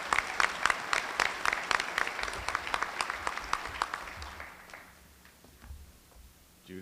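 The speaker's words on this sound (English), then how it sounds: "Let's give the city leadership and all their staff another round of applause." A Chamber of Commerce breakfast crowd applauds city leadership and staff, with crisp, dense clapping for about four seconds that then thins out and fades to quiet room tone.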